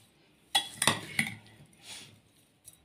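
A spoon mixes fruit chaat with sugar in a dish, making a few bright metallic clinks and scrapes in a quick cluster, then a softer stir and one last faint clink. Nearby and clear, with no talking.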